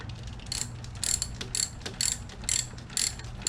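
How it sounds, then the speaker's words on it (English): Ratchet wrench tightening a bolt during a camshaft seal replacement, a series of close, crisp clicking bursts in a regular back-and-forth rhythm over a low hum. "We simply tighten the bolt,"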